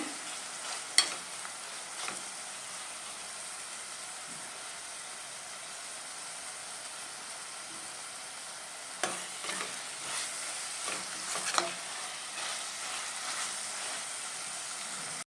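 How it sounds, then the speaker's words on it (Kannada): Whole spices for Chettinad chicken saru fry in a pan with a steady close hiss, while a spoon scrapes and stirs in occasional knocks and bursts; no one speaks. "ಚೆನ್ನಾಗಿ ಫ್ರೈ ಆಗಿದೆ."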